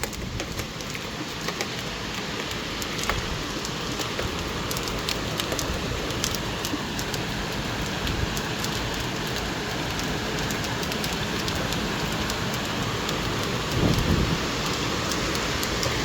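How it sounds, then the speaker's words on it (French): Steady, dense pattering of hail hitting surfaces in a windy hailstorm in Bordeaux, continuous and fairly loud, with scattered sharper impacts throughout. "Les amis, je me prends de la grêle dans la tête."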